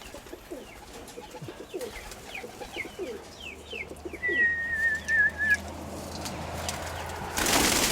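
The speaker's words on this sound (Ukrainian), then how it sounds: "бояться мене взагалі голуби, я вам скажу" Pigeons coo in low, repeated throaty calls, with fluttering and a brief whistling tone partway through, fairly close.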